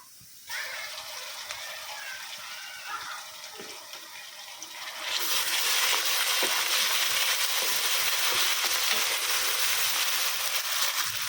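Browned onions frying in a pan as ginger and garlic are added, giving a close, steady sizzling hiss that grows suddenly louder and denser about halfway through and stays strong to the end, with no voices.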